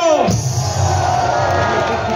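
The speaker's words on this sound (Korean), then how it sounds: "큰 박수 한번 해주십시오." Large rally crowd cheering and applauding, a loud continuous roar of voices and clapping, with a brief shout at the start.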